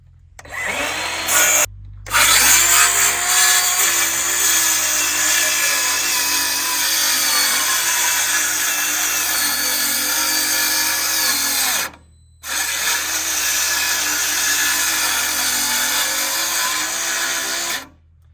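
A power saw cutting through 4x4 lumber, running as a loud, steady whine for long stretches and broken by two short pauses where the motor cuts out and restarts.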